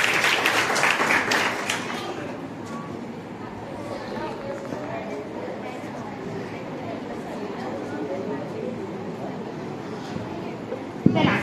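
Applause from the audience at a Jain Sevadal and women's group quiz contest, given for a quiz team, with a bright burst at first that settles into steady, moderately loud clapping under crowd murmur.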